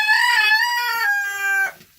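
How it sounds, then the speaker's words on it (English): A rooster crows once in a long harmonic call that rises, holds and drops off abruptly, loud and close, with no talk over it. "the roosters are apparently offended by that behavior. And they're yelling about it."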